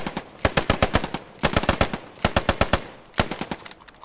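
Suppressive machine-gun fire during section attack training, bursts of rapid shots in four clusters separated by short gaps, loud and close, with no talk.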